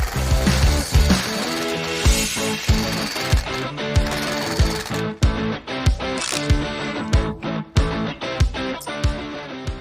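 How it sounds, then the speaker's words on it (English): A large impact wrench drives a Weasyfix foundation screw into the ground for a wood deck, a loud rapid hammering rattle in repeated bursts with brief pauses between them. "Then I will be able to use a huge impact wrench, the same as we get where we buy the screws."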